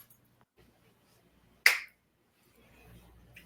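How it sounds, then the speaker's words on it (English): A single sharp finger snap cracks out close and loud after near silence, followed by faint low background sound. "When I snap my fingers, you're going to wake up"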